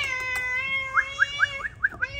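A cat about to be given leftover meat in a home kitchen meows softly, a handful of short, high cries in quick succession after a sustained tone, close with faint background noise.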